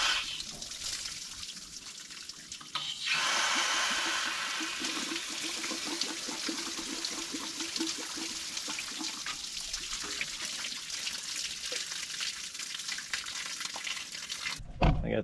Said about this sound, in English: Let's see if I can flush out some of this rusty water that's in here.